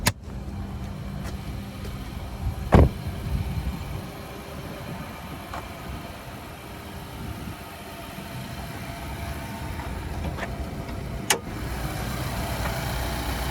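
Nissan Armada's 5.6-liter Endurance V8 idling under an open hood, a low, steady engine hum with a few sharp clicks and knocks, no voices heard.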